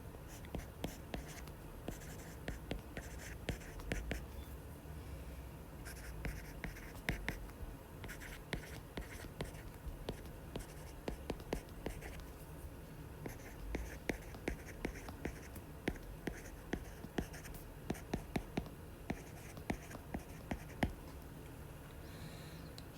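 Pen or pencil scratching across paper while an English sentence is written out by hand, a steady run of short strokes and taps, faint and close, with no talking.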